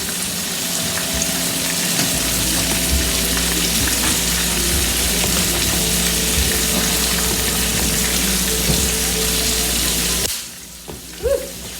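Chicken cutlets fry in a pan with a loud, steady sizzle and scattered crackling pops. The sizzle runs close and continuous before dropping away abruptly near the end.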